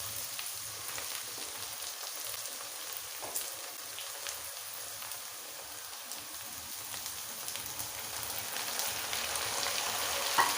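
Tomatoes added to softened okra for masala bhindi, frying with a soft, steady sizzle and crackle in the pan, fairly faint and continuous with no talking.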